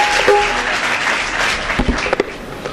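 An audience at a gathering in Sanganer applauds loudly with dense clapping, then thins into a few scattered louder claps toward the end.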